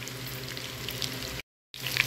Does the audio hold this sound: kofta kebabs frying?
yes